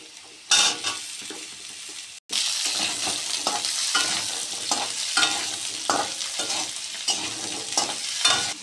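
Pumpkin pieces added to hot oil after fried potatoes, loud close sizzling that bursts in at once and continues steadily, broken by rhythmic scraping of a spatula stirring in the pan, with no talk.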